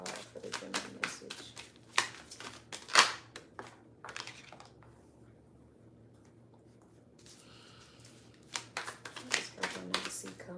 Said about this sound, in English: I'm gonna shuffle these one more time, because these cards are too big for me to keep doing that.